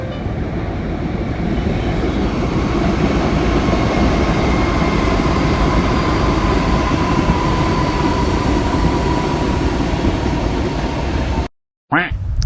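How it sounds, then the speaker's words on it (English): A train passes close by with a loud, steady broadband rumble and rushing wheel noise, a faint squeal running through it, before cutting off abruptly near the end. "Oh, there's a train."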